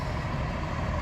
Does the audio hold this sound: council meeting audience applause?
no